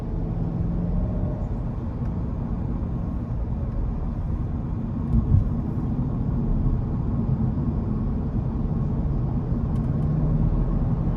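Steady low engine drone and road rumble from a 2023 BMW M850i xDrive Convertible with a 4.4-litre twin-turbo V8, cruising at an even level with one small bump midway.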